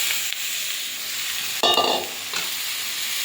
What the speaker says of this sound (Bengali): কেটে রাখা আলু দিয়ে দেবো।